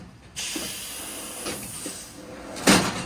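Pneumatic cattle crush doors shut with sharp hissing air bursts and metallic knocks. Several short releases are followed by a louder, longer hiss near the end, heard close up with no talking.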